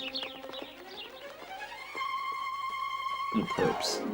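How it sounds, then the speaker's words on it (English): Pigeons visiting a backyard compost heap give soft, low coos, partly masked by a sliding electronic tone and whistling noises. A brief flutter of wings or movement comes near the end, fairly close, with no talking. "The pigeons like to go through my compost."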